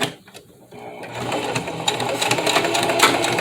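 A sewing machine stitching down a face mask seam runs steadily, its rapid mechanical whir building after a short quiet start and continuing loud and close.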